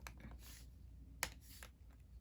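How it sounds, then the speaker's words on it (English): Long fingernails tap on a laptop keyboard in faint, sparse clicks, with one sharper keystroke standing out in a quiet room. "I'm sorry if you can hear me typing."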